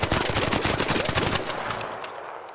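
Stitcher gun from ARC Raiders firing in a rapid sustained burst of loud close shots, a standard level-3 weapon with a 20-round magazine, the rattle cutting off after about a second and a half into a fading tail.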